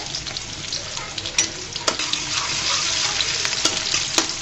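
Onion and garlic frying lightly in a pan, a continuous close crackling sizzle with sharp utensil clicks and scrapes now and then, no voices.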